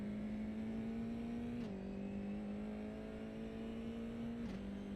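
A steady, droning open-wheel race car engine in a racing video game holds a constant pitch, with two brief dips where it shifts gears, loud and continuous with no talk.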